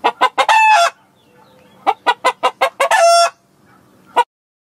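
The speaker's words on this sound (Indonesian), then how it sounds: "Suara ayam" A chicken clucks in a quick run of short, loud calls, breaks into a drawn-out crow, clucks again, crows a second time, then gives one last cluck before the clip ends in silence.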